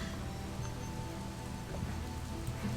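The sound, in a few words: rain in a video game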